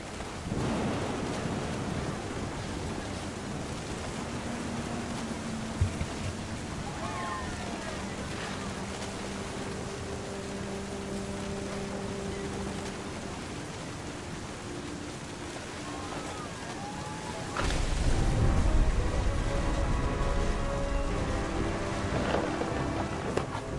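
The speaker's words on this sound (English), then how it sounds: "The thunder sounded much too close and full of angry power." Rain and thunder fill a stormy scene in What Remains of Edith Finch: a steady wash of rainfall carries faint tonal sounds, then a deep, close thunder rumble swells in near the end and lingers.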